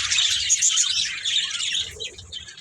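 A colony of about a hundred pairs of budgerigars in an aviary in Bahawalpur, chirping and warbling continuously in a dense, busy chatter, fairly close, with faint low rustling underneath.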